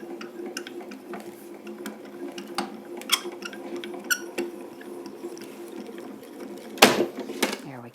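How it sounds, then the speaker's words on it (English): A craft die-cutting machine feeding a plate through, giving soft repeated mechanical clicks and a low steady whir, ending in a louder clunk near the end. "I find it's easier if I turn it around and feed it through the machine to engage it this direction."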